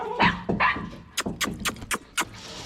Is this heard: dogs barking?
yes